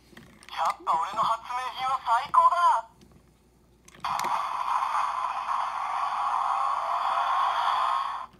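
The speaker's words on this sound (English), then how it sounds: "That's different. That's a motorcycle sound." A Kamen Rider Build toy bike plays its electronic motorcycle sound effect: a short burst of chirpy tones, a pause, then a sustained revving engine-like drone held for several seconds, fairly loud and close.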